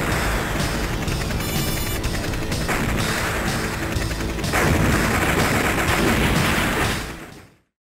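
Arcade jet-combat game Afterburner blasts dense, continuous gunfire and explosions over loud game sound, a relentless barrage that swells midway, then fades out abruptly.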